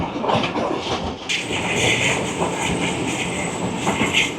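Heard from on board, the Rawal Express runs past a station, with loud rhythmic wheel clatter, rumble and hiss from the rail cars continuing throughout.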